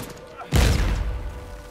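Gunfire in an Uncharted 4 multiplayer match, a sudden burst of shots with a heavy low thump, then a fading rumble; a quiet stretch comes before it.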